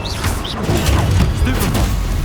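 A Confringo blasting-spell explosion in Hogwarts Legacy booms through a dense, steady wash of game sound, with sharper crackling bursts layered over a low rumble for a couple of seconds.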